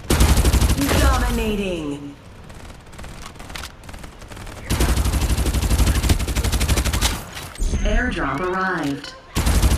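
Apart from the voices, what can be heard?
gunfire in Farlight video game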